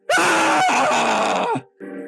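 A person's voice imitates a trapped treasure chest screaming, one long strained, groaning wail that bends down at the end, followed by a brief quieter vocal sound.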